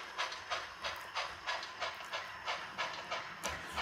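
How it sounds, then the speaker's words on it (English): A model railroad brewery train rolls along the layout with a steady, evenly spaced clicking of wheels over rail joints, close and moderately quiet, with no talk. "So there the brewery train comes in"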